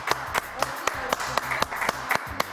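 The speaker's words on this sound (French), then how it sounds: "On applaudit s'il vous plaît." Studio audience applause after a song on a French TV show, steady rhythmic clapping for a few seconds with no talk.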